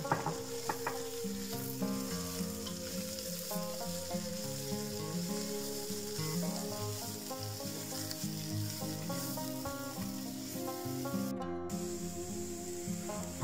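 Chopped onion and garlic frying in oil in a pan, giving a steady close sizzle and crackle throughout with a brief stir partway through; soft background music plays and no one talks.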